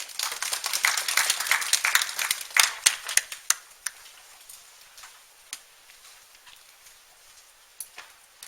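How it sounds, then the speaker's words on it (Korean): An audience at a high school admissions information evening claps to welcome a career-guidance teacher, with a dense burst of clapping that thins over a few seconds into scattered single claps, fairly close with no speech. "진로선생님 큰 박수로 맞아주세요"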